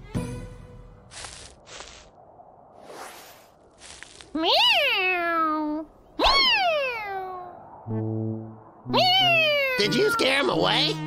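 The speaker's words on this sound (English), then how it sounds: "Meow! Meow!" A cartoon cat meows loudly several times in long, drawn-out, falling wails, with short gaps between them, following brief bits of talk and sound effects from the cartoon.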